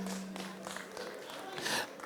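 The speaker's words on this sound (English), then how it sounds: "Please, a big round of applause for yourselves." Birthday celebration audience applauding, a steady wash of clapping from a room full of people that swells slightly near the end, with some voices mixed in.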